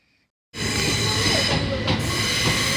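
At a railway station in Canterbury, a train suddenly becomes audible after a brief near-silence, then rolls on as a loud, close rumble with a faint metallic wheel squeal.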